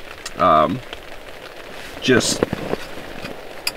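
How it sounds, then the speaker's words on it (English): Steady rain patters on a tent during a wilderness camping trip, a constant crackling hiss under a man's nearby speech that comes in two short bursts. "You can hear it raining."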